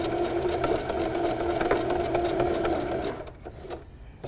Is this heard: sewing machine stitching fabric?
yes